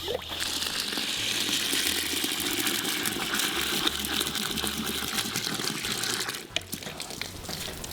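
Water gushes steadily from a tap into a bucket of powdered horse feed mix at a horse shelter, a loud continuous pour with a brief clank near the end and no talking.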